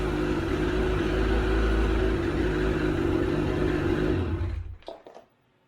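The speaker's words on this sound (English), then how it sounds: "And you guys can hear the snowmobile run." A Ski-Doo Summit snowmobile engine with its stock exhaust idles steadily, loud and close with a constant droning rumble, then is shut off and winds down into silence near the end.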